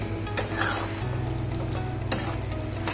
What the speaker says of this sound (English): Add little bit of butter and mix nicely